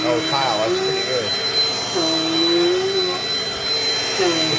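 A Dirt Devil Dynamite Plus vacuum cleaner runs steadily on carpet, a continuous loud whine with a high tonal hum and shifting pitch as it moves, with a person talking over it.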